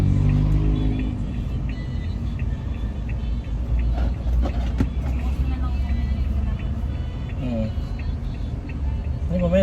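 Road traffic jam with idling and revving car and bus engines rumbling nearby, a continuous low drone, while people talk over it.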